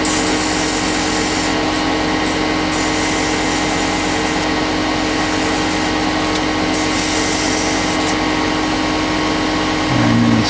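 Sanding a turned bocote wood drop pendant on the lathe with 400 grit sandpaper, a steady loud whirring rub over the constant hum of the spinning lathe, continuous throughout with no talking.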